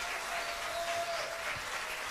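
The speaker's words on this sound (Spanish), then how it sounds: "más un fuerte aplauso para nuestro Pedro" A television studio audience on a Saturday variety show claps loudly and continuously, a dense, even burst of applause with a faint tone running underneath.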